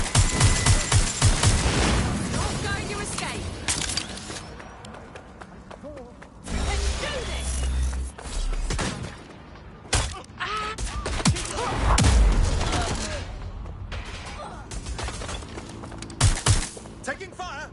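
Gunfire in Watch Dogs Legion comes as scattered bursts and heavy thuds, sharp cracks spread through the stretch amid game sound and voices talking.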